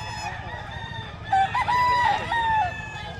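A gamefowl rooster crows at the Bocaue pet market, one drawn-out, wavering call lasting over a second, loud and close over a steady crowd murmur and low rumble.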